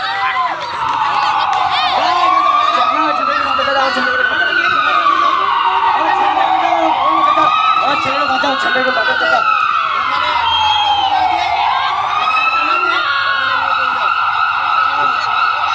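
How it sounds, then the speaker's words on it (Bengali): An ambulance siren wails loud and close, its rising and falling sweeps repeating steadily. "এখন অ্যাম্বুলেন্সে যাচ্ছে, সরে যা, অ্যাম্বুলেন্সটা আসছে।"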